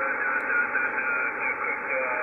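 An SSB radio signal on a Yaesu FTdx5000MP with no DSP noise reduction comes through as a steady, band-limited hiss with a faint muffled voice buried in the noise.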